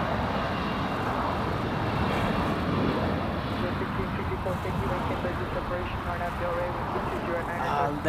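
Airliner taking off at LAX, a broad steady engine roar filling the air without letup, with a voice talking over it.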